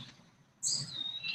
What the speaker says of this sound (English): So being part of this atmosphere, hearing the bird.